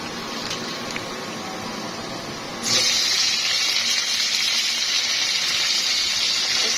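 Malabar spinach fruits go into a pan of onion and green chili fried until red. A quiet background jumps midway into a loud, steady rushing sizzle that holds to the end.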